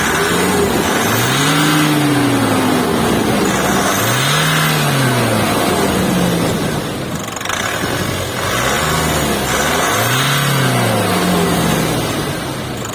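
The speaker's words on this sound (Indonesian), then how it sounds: "Jadi mesinnya tuh dia pakai YD25 DDTi 2500 cc turbo diesel yang sama seperti Terra pre-facelift" A Nissan Terra's 2500 cc YD25 DDTi turbo diesel runs loud and close, rising and falling in repeated revs about every three seconds, with a steady rumble between the swells.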